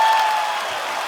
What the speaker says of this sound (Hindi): प्लीज आप सबकी जोरदार तालियों के बीच इनवाइट करना चाहता हूँ